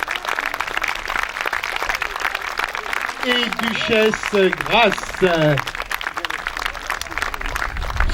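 Crowd applauding at a medieval festival in Clisson with horses present, sustained clapping beneath a voice announcing over a loudspeaker.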